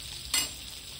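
Butter sizzles in a pan for pav bhaji, a faint steady fizz broken by one short, louder crackling burst near the start, heard close up with no voices.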